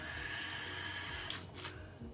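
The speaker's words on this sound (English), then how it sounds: "I'm going to add some more water." Tap water runs steadily into a sink at close range, a continuous hissing stream that shifts in tone partway through as the flow is disturbed, with no talking.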